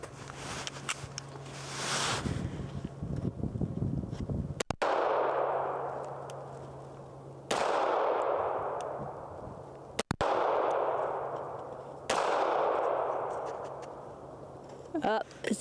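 Sharp reports from a Smith & Wesson EZ pistol fired by a shooter wearing gloves: three loud, separate shots spaced a few seconds apart, each with a long decaying ring, against a faint background hum.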